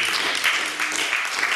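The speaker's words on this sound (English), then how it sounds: "Somebody clap your hand" Church congregation applauding and clapping hands during a lively service in Jamaica, a dense steady wash of claps filling the short moment.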